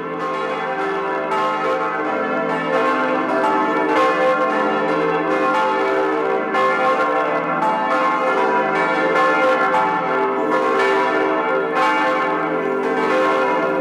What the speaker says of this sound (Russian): Трижды в год колокола собора Святой Девы Марии пробуждают обитателей Рейхенау ото сна.